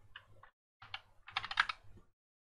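Computer keyboard typing a short command in AutoCAD, three quick bursts of close, crisp key clicks in an otherwise quiet room.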